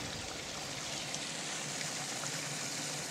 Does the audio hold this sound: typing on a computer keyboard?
no